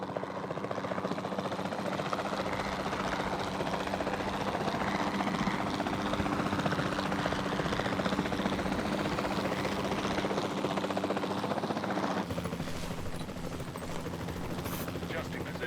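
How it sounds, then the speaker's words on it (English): Capture team helicopter in the video game Jurassic World Evolution 2, a continuous loud rotor drone with steady chopping throughout, mixed with game effects and faint background voices. "Then the sensible thing is to take a capture team helicopter."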